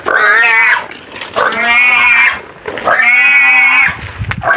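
A pig being carried squeals loudly in three long, shrill bursts with short gaps between them, close by and with no talk over it.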